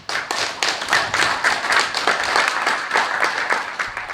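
A church congregation claps and applauds together in dense, steady rhythmic clapping that fills the room, loud and continuous throughout with no speech.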